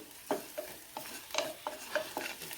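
Onion, ginger, green chilli, curry leaves and ground spices being sautéed in a pan, a spoon scraping and stirring in about eight brief rhythmic strokes over a soft sizzle, close and fairly quiet.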